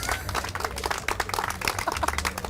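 Audience clapping and cheering for a stage performer doing rounds and a wire walk at a live TV comedy show, dense steady applause filling the room.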